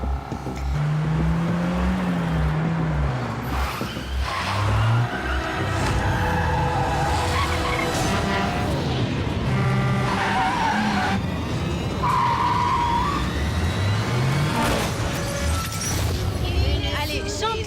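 Cars in the video game Dark World accelerate and skid continuously, engine tones rising and tires squealing loudly throughout, with a person talking over the driving.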